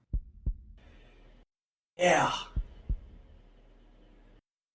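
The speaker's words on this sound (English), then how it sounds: "Especially the heartbeat." Low, thudding heartbeat pulses from the horror game Jimmy and the Pulsating Mass, a few spaced beats around a short burst of noise, with a brief spoken word.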